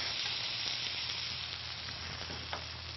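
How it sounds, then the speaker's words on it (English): Beef tenderloin sears in a hot skillet for Beef Wellington, giving a steady, close sizzle of frying that holds evenly throughout, with faint crackles and no talking. "let this cook undisturbed for 2 to 3 minutes or until it's nicely browned on the bottom"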